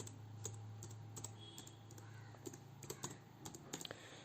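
Quiet keystrokes on a computer keyboard as a MySQL command is entered, irregular clicks and taps spread across the stretch over a steady low electrical hum, with no talking.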